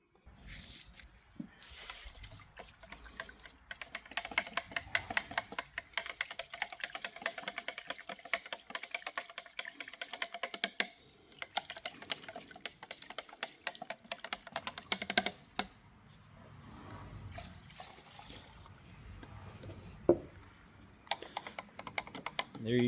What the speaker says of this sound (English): I'm going to stir these up, and then I'll mix them together.